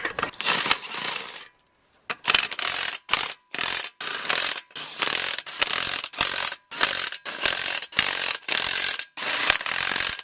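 Ratchet wrench working flange nuts on 22.5-inch semi wheels fitted to an F550 service truck, loud rapid metallic clicking in about a dozen quick bursts separated by short pauses, close up.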